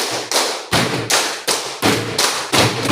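A group claps together in a classroom concentration clapping game, giving six or seven loud, crisp, evenly spaced claps at close range with no talking.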